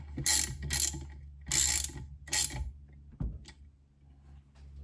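A ratchet wrench tightening a part on a Triumph Spitfire transmission during a rebuild, four quick clicking bursts followed by a single thud, close and clear with no talk.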